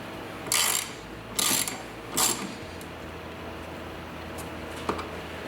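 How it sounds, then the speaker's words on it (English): Ratchet wrench driving an 8mm factory bolt back into a HEMI Dodge Charger during a cold air intake install, three short bursts of clicking close by, then quiet with one faint tick. "You will take the factory bolt you pulled out, that is an 8mm, and reinstall it."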